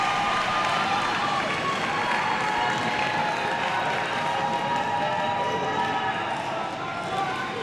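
The home crowd at a high school girls' volleyball match between Bishop McLaughlin and Santa Fe cheers and claps in a steady, continuous roar of applause, with a commentator's voice running over it.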